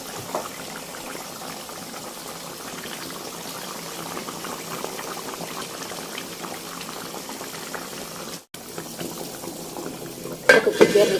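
Beef gulai broth boils in a pot, a soft continuous bubbling and simmer, fairly quiet and close, with a brief pause and a few light clinks of utensils near the end.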